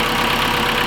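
A warmed-up car engine idles steadily, a loud, close, even rumble that holds without change over a brief moment, with no talking.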